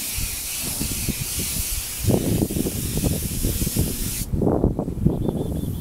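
Short bursts of spray paint hiss onto Honda NS250R motorcycle parts, a broad airy spray repeated in quick pulses, close and loud, ending with a brief pause.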